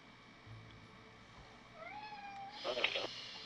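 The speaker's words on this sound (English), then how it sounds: "Oh, I heard a cat." A loud domestic cat meows with rising, drawn-out calls indoors, followed by a sharper, louder cry near the end, over low background noise.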